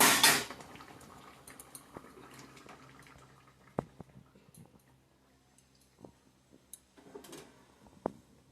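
A pot of potato and egg curry is lifted off the stove in a home kitchen. A sharp clatter opens the sequence, followed by sparse metallic clinks and knocks of pot and utensils against a quiet background.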